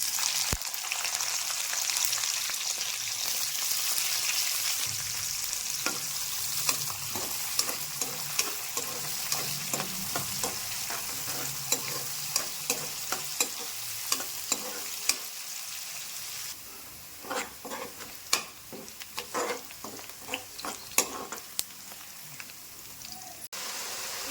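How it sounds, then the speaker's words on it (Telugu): Onion, green chilli and curry leaves crackle in hot tempering oil for a Telugu brinjal-tomato curry, a steady close sizzle with scattered sharp pops and spoon scrapes that grow busier in the second half. "ఉల్లిపాయ పచ్చిమిర్చి కరివేపాకు వేసుకోవాలి"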